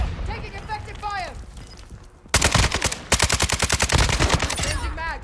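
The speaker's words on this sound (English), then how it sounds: "Taking effective fire." Call of Duty Modern Warfare II gunfire: after a voice speaks, loud rapid automatic fire breaks out in two sustained bursts of evenly spaced shots, close and dominant.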